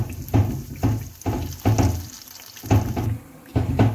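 Banana fritters (pazhampori) fry in oil over a medium flame with a steady bubbling sizzle, broken by repeated soft stirring or scraping strokes at close range; no one speaks.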